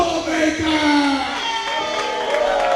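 A wrestling audience in Indiana, PA shouts and cheers in a loud, sustained burst, whoops and yells rising together from a packed venue crowd.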